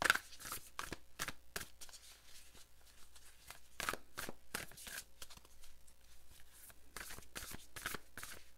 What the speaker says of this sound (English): Cards are flipping.